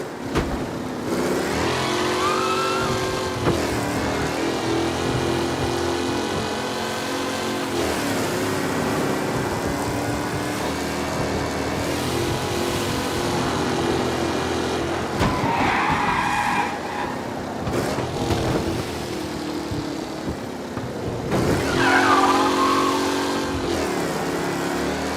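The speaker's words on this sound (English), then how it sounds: "Officers reporting a race car driving at speed through the city." Race car speeding through city streets in a video game, its engine revving loudly and tires skidding and squealing through turns, continuous and close throughout.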